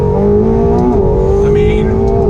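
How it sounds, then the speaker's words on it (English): A 2019 McLaren 720S twin-turbo engine pulling hard after a paddle shift, a loud steady droning roar with rising harmonic tones, heard close from inside the car. "The sound of the turbos, you hit that paddle and it just goes."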